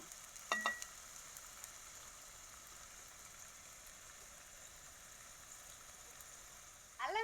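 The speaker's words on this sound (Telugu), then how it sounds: "అల్లం వెల్లుల్లి పేస్ట్ పచ్చివాసన పోయేంత వరకు నూనెలో ఇలాగే వేస్తాను" Ginger garlic paste frying in hot oil gives a steady, soft sizzle throughout, with a brief clatter near the start and a louder burst of activity at the end.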